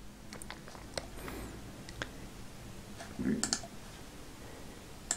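A computer mouse clicking through a recording application's menus, a few sharp, light clicks scattered across the stretch, fairly close and quiet against low room noise, with no talk.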